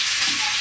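Curry leaves and onions sizzle in a hot kadai, a brief, steady, close frying hiss with faint crackling and no voices.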